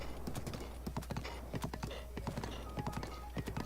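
A horse's hooves clip-clop in a video game as it climbs a slick hill, with quick, crisp, evenly spaced hoof strikes over a steady low hum, close and distinct.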